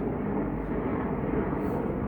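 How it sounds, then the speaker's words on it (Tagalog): Helicopter passing overhead in a clean, peaceful residential area in Japan, heard as a steady, loud broadband rotor and engine drone that holds constant throughout without any talk. "may helicopter oh."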